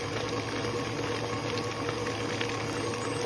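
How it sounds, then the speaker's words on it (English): Goat milk butter chunks slosh around in separated buttermilk inside a churn, giving a steady, continuous wet churning and bubbling sound throughout, fairly close and uniform, with no voices. "That's the butter sloshing around in the buttermilk that's been separated."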